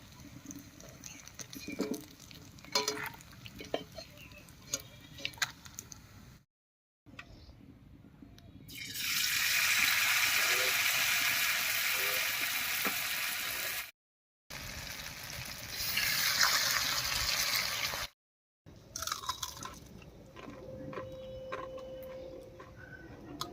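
Flower and leaf fritters (bora) fry in hot oil, a loud hiss and crackle swelling in bursts between gaps, with small clinks and taps of a utensil around them.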